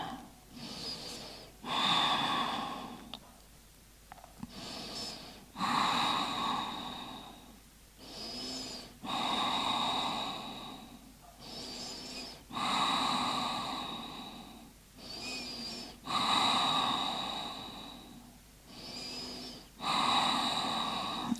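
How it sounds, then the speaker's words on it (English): Deep, slow breathing during a yoga hip and lower-back stretch, with long audible inhales and exhales repeating in an even rhythm, close and clear, with no talking. "Taking deep breaths"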